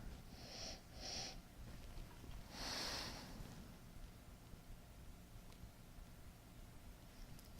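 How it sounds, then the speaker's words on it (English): Someone sniffs a blood orange Diet Coke up close, with two short quick sniffs followed by a longer, stronger inhale. The rest is quiet room tone with no talking. "But let's give it a sniff here."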